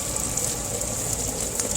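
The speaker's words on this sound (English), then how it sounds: "Alright, pool filter's on." A swimming pool filter runs steadily, producing a continuous broadband rush of flowing, splashing water with no pauses or voices.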